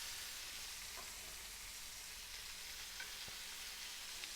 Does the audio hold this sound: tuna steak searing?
yes